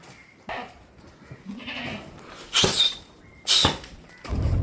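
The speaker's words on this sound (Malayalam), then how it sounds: "ആട് കുട്ടി" A young goat kid at a livestock sale bleating several times, short sharp cries in bursts, fairly close, with quiet farm background in between.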